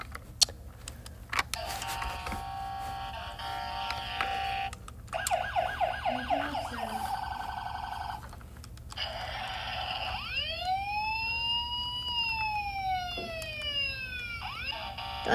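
Electronic siren tones from a video game wail and warble in several bursts, with rising and falling sweeps, fairly clear and upfront, like a synthetic game siren.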